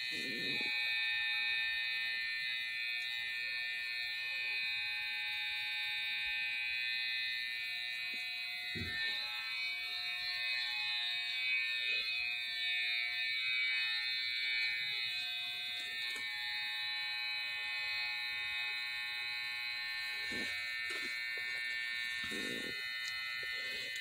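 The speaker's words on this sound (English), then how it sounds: "Getting behind the ears, trimming behind the ears," Electric hair clippers buzz steadily and fairly close while trimming behind the ears and along the neck during a fresh haircut on locs, a constant high-pitched whine with brief soft knocks, running alone throughout.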